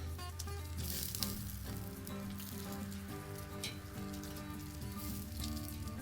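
Buttered Cajun shrimp skewers on a kettle grill, giving a dense, steady crackling sizzle with scattered pops throughout.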